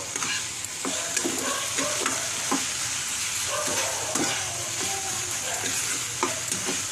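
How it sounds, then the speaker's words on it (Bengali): A sweet kheer mixture with a pinch of cardamom powder is stirred in a pan, with a constant soft sizzle under repeated close spatula taps and scrapes at an uneven rhythm. "এবার মিশ্রণটাকে মিশিয়ে নেব।"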